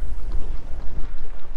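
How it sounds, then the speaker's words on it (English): Gusty wind buffeting a small converted jon boat out on open water, a rough low rumbling roar that swells and dips in uneven surges, close to the microphone with no talk. "This wind is stupid."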